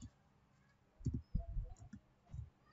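Someone types code on a computer keyboard, producing clusters of soft, close key clicks in irregular bursts separated by short pauses, with no talking.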